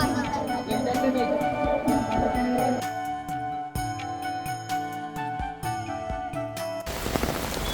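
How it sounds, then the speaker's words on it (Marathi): Heavy rain falls in a crowded Mumbai street during the Ganpati festival, a continuous broad hiss under tonal music and voices, with the downpour swelling louder and clearer at the very end. "जाम पाऊस आहे मित्रांनो"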